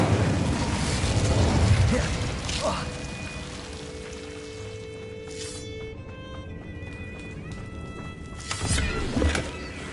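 Spell blasts from the video game Hogwarts Legacy, Confringo and Incendio, burst out loud at the start and again near the end, with a fizzing magical whoosh and rumbling effects between them over a game soundtrack.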